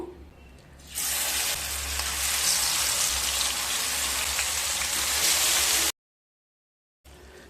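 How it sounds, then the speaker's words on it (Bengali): Chicken pieces frying in ghee in a wide pan give a loud, steady, close sizzle that starts abruptly after a brief quiet moment and cuts off sharply near the end. "দুটো সাইড হালকা ভেজে নেব"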